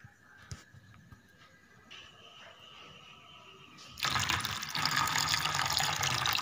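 Water poured into a sweet sherbet drink: faint clinks and a soft trickle, then a loud, steady rush of pouring water that sets in partway through and runs on to the end, with no voices.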